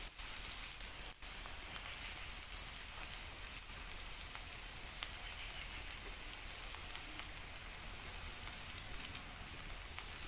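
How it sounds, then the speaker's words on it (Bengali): Chopped onions fry in hot oil, a continuous crackling sizzle that stays even and fairly quiet throughout, with no talking. "এবারে পেঁয়াজ কুচনোগুলো তেলের মধ্যে"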